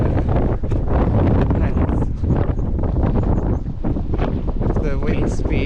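Strong gusting wind buffets the microphone on an exposed clifftop coastal path in Cornwall, heading toward Newquay, a loud, continuous roar with rushing gusts throughout and no clear voice.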